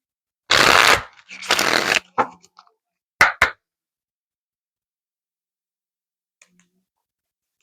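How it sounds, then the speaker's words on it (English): Isis oracle cards riffled and shuffled in two loud, dense bursts, then a few sharp taps and clicks as the deck is squared, followed by near silence with a faint tick. "One more shuffle."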